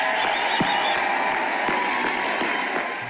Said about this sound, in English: To roaring applause, President Bill Clinton smiling and shaking